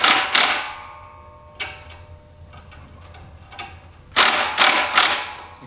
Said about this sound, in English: You can see the springs compressing a little bit.